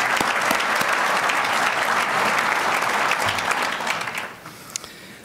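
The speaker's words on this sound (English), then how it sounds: "Let's give him a big applause." Sustained applause from an audience at a business awards event honoring top newsmakers in Detroit, loud and steady clapping that tapers off toward the end.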